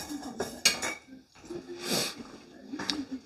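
Metal kitchen utensils clatter and clink while a different whisk is pulled from among them, giving several close rattles and a longer rummaging scrape, with a voice speaking briefly.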